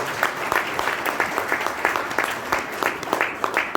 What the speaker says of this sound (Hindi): समझ में आया तो ताली बजाओ